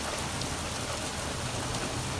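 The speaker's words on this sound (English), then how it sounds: "I can hear the rain right now." Heavy rain pours down outside during a long, wet morning, a dense and constant hiss of drops hitting surfaces with no pauses and no voices.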